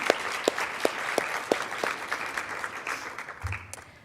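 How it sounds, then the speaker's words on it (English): At a law foundation annual meeting, a small audience gives a modest round of applause: distinct, spaced claps at first that blend into lighter scattered clapping and fade, fairly quiet overall. "I'll give these guys a round of applause"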